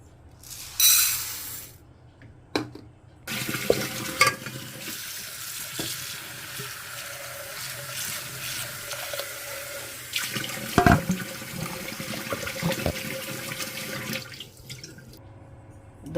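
Moong dal is rinsed under running tap water in a kitchen sink, a steady hiss and splash of flowing water with a few louder clunks and sloshes partway through, with no talking.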